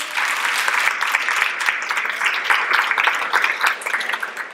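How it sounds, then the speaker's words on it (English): Audience applause for the speakers at the close of a panel session on gender equality and mentoring programmes, a steady, dense roomful of clapping sustained evenly throughout without pause. "So a round of applause for all our speakers."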